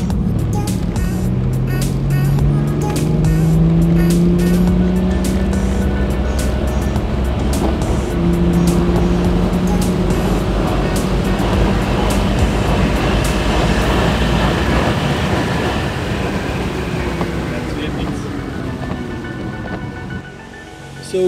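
A BMW E92 335d diesel tuned to Stage 2, about 385 hp and 800 Nm, accelerates hard from 100 to 200 km/h. Heard from inside the car, the engine roar climbs steadily in pitch under heavy road and wind noise, with no talking.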